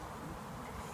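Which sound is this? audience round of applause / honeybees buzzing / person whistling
honeybees buzzing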